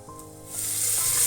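Potato, pumpkin, drumstick and tomato pieces fry in a pan for sambar, a hiss of sizzling that swells louder over a short moment.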